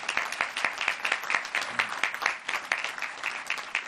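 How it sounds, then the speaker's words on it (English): An audience at the USS Illinois commissioning ceremony gives the submarine's shipbuilders a rousing round of applause, brisk crisp clapping throughout, fairly distant, with no talk. "Let's give them a rousing round of applause."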